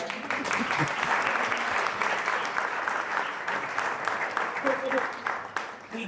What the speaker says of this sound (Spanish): Fuerte aplauso para Blanca.